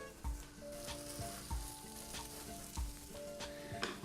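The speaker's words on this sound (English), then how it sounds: "When that is formed, then you can turn your eggplant around. Nice and crispy on the outside, creamy in the inside." Eggplant fries in a pan with a close, steady crackling sizzle, punctuated by a few soft thuds and scrapes as pieces are moved.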